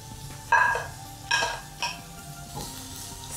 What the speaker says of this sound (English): Now I'm going to add my assorted peppers.